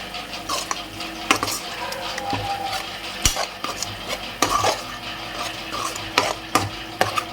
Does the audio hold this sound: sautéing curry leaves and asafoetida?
yes